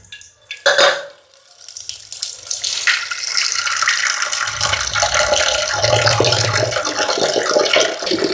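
Water is poured for a jackfruit seed shake, a steady rushing splash that runs for several seconds after a brief knock at the start.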